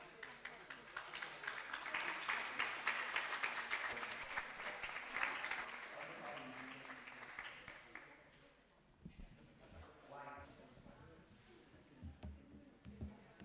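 Audience applause at a pitch competition event, a dense, loud wash of clapping filling the first eight seconds before fading into scattered claps and room noise with some talking.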